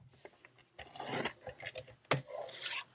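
A paper trimmer slices through a 6 by 6 inch sheet of cardstock, with close scraping and sliding blade strokes in several bursts, some clicks and a longer rasping pull near the end.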